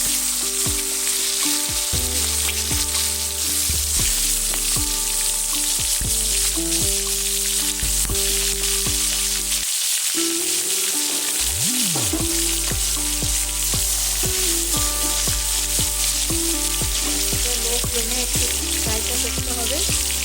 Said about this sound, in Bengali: আমার চিকেনগুলো এগুলো একটু বেশি তেলে ভাজতে হবে